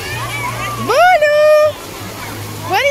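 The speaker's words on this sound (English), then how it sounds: "You didn't want to get splashed?" Water splashes at Legoland Water Park in Los Angeles, California, with bursts of splashing and sloshing close by as children shout and squeal and an adult talks.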